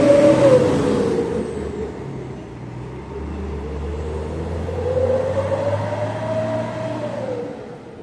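A bus is maneuvered into a parking spot at night, its engine humming and rising and falling steadily through the clip. The engine sound is fairly loud and close, and no one speaks.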